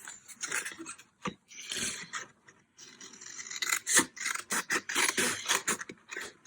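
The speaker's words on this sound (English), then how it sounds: "I'm using scissors" Repeated crisp snipping and rasping strokes, close up and irregular, with short pauses between bursts of cutting.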